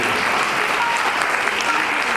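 A crowd at a comedic Hindi poetry gathering claps loudly and steadily in a dense burst of applause that runs the whole time without pause.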